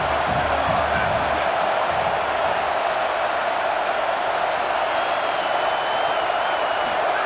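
A stadium home crowd in EA Sports College Football 27 roars steadily, a dense continuous wash of cheering and noise with no breaks across the whole stretch.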